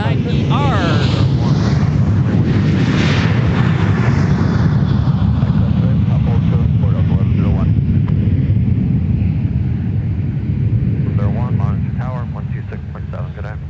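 Delta Boeing 737-900ER jet airliner on its takeoff roll at Minneapolis–St. Paul airport: a loud, sustained roaring engine rumble with rising whine, fading slightly near the end, with someone talking over it.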